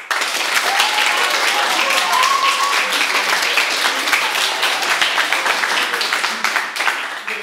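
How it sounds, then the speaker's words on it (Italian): An audience at a social club show applauds to vote for a contestant's elegance, loud dense clapping sustained for several seconds with a few voices mixed in and a slight fade at the end. "Applauso per l'eleganza di Darius."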